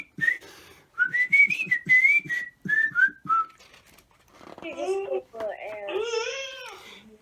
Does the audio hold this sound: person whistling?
yes